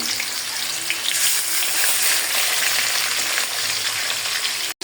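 Marinated chicken fries in a wok on a gas stove for a homemade chicken grill, giving a loud, steady sizzle that runs without a break until it cuts off abruptly at the very end.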